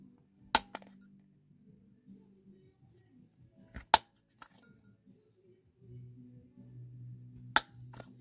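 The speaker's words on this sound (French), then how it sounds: "je prends juste la petite pince manuelle, tout simplement, et puis là je viens réaliser mes petits trous" Small hand pliers punch holes in an air-dry clay notebook cover, giving a few sharp, isolated metallic clicks several seconds apart over a quiet background with faint low murmuring.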